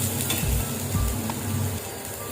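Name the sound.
eggplant slices dry-frying in a pan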